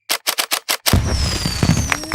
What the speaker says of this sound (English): What a lovely firework display.